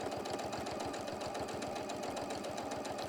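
A sewing machine runs steadily around an appliqué on a Daisy May project, its needle chattering in a fast, even rhythm close to the microphone with no pauses.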